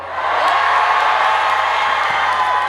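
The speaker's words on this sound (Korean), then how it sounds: "부안에 살고 계신 분들 함성!" A festival crowd at an opening celebration concert in Buan roars and cheers for a trot singer, a broad sustained wall of shouting voices and whoops that holds steady and loud throughout.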